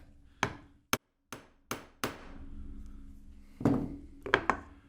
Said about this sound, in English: This bit here is an indentation that you're supposed to use to peen over the end of the rivet on there, like that.